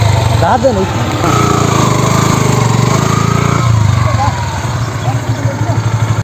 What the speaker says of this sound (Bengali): আজ সে নদী দিয়ে আমরা বাইক চালিয়ে পার হচ্ছি